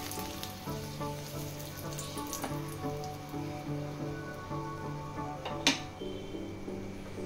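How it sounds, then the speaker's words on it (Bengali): Bay leaf and dried red chilli crackle and sizzle in hot mustard oil as a dal tempering, a steady close frying hiss with scattered pops and one sharper spatter. "এর মধ্যে তেজপাতা আর শুকনো লঙ্কা ফোড়ন দিয়ে দিচ্ছি"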